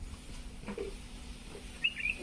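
Sparrows near a backyard cherry tree, heard as a couple of short, high chirps near the end over a quiet background with faint rustling.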